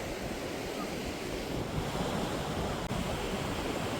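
Sea waves wash onto the white-sand beach at Bakkhali at high tide, a continuous rushing surf mixed with wind buffeting the microphone.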